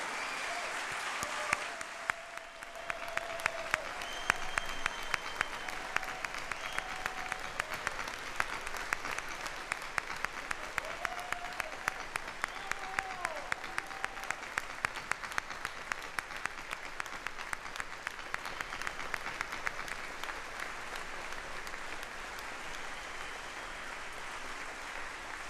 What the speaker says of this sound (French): Lève-toi, qu'on t'applaudisse.